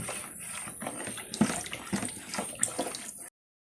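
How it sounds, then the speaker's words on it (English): Lye solution is poured into oils for handmade castile baby soap, a soft, close trickle and splash of liquid lasting about three seconds, quiet and alone. "So now the lye solution is being added."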